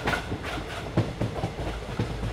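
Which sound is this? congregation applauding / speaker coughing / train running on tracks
train running on tracks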